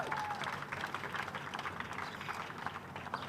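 An outdoor crowd at a Pride Day flag raising in Framingham gives a brief, fairly faint round of clapping that carries on steadily for several seconds.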